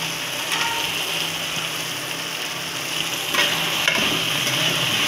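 Peanuts, curry leaves and tomato fry in a pan with a steady, close sizzle. A spoon stirs and scrapes through it, and a brighter crackle and clatter comes in near the end.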